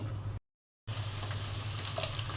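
Small-cut farm chicken pieces with gizzard, liver and bones sizzle steadily in hot oil, a continuous close frying hiss broken by a short silent gap, with no talk.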